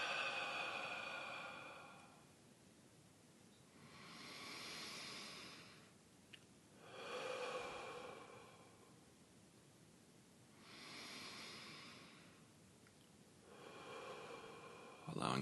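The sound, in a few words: deep breaths in through the nose, out through the mouth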